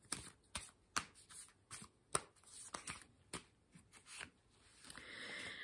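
Tarot-style cards being shuffled and drawn close up, a quick run of crisp riffling flicks and slaps at irregular intervals, quiet and isolated, ending in a soft sliding sweep.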